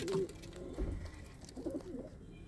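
Competition-flying pigeons kept in a loft coo in low, soft, throaty murmurs that repeat in short phrases with no talking over them.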